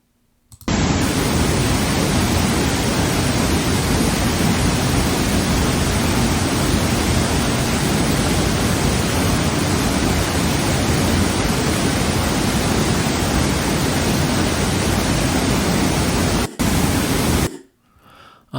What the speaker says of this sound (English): watch the falling water and the thundering sound of it in front of you